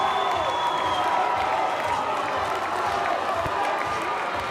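A crowd at the NCAA men's water polo championship at Stanford cheers and claps after a buzzer-beater title win, a steady roar of voices, whoops and clapping filling the space at an even level throughout.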